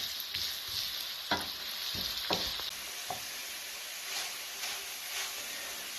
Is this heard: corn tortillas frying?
yes